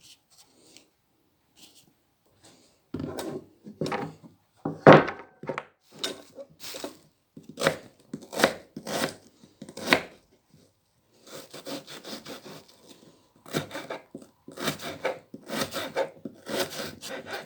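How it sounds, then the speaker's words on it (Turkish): Repeated crisp knife chops on an onion on a cutting board, coming in quick bursts with short pauses between runs, close and clear with no talking. "Soğanımızı da doğrayalım arkadaşlarım"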